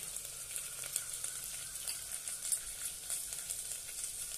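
Spiced masala for vangi bhat, an eggplant rice dish, sautéing in a pan with turmeric, coriander powder, garam masala, red chilli and salt: continuous hissing sizzle with faint stirring scrapes, close but fairly soft.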